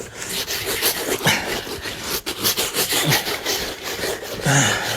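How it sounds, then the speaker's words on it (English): Coffee stain being rubbed hard into a painting canvas, a steady close-up scrubbing and rasping of cloth or hand over the textured canvas surface, continuous with rhythmic strokes and no talk. "So I rub it in nice and hard."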